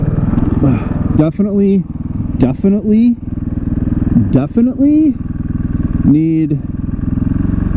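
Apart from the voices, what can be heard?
2014 KTM 450 XC-W supermoto motorcycle riding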